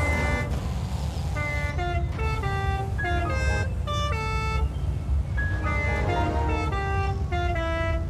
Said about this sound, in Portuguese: isso é buzina também?